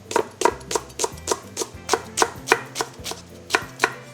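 A single green onion is sliced on a cutting board with a knife, giving a brisk, even run of about fourteen sharp chops, close and clear with nothing else heard.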